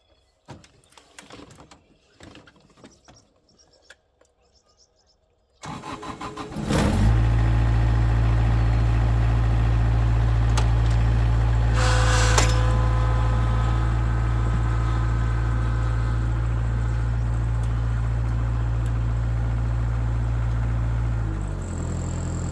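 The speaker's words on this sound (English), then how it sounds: "now I'll just fire the machine up and back it out" After some shop clatter, a riding lawn mower's engine starts abruptly and settles into a loud, steady, close idle that continues to the end, with no talk.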